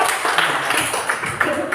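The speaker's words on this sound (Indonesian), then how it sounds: "Oke, tepuk tangan dong buat saya." A group of teachers claps together during a training session, with steady, moderately loud applause running through the whole moment.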